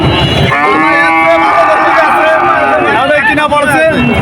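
Cattle lowing at a cattle market in Shahpur, one long, loud moo close by followed by a second shorter call, with people talking and crowd murmur in the background.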